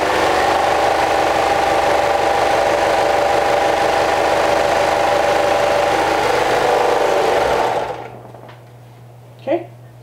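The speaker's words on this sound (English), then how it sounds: "I'm sewing along the top and back of the hood." Sewing machine stitching along the top and back of a fabric hood, a steady loud mechanical whir that runs continuously and then stops, followed by quiet room hum and a brief soft sound.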